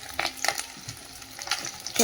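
Tangra fish frying in plenty of oil, heard as soft sizzling with short bursts of spatter and stirring scrapes at irregular intervals, fairly quiet and close, without any voices.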